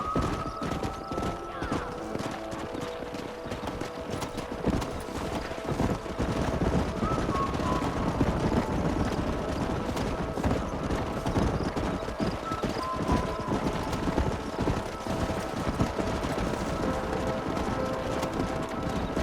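Horses in the Red Dead Redemption video game, hooves clip-clopping in a steady running rhythm with occasional neighs and whinnies, a busy gallop carrying on throughout at moderate loudness.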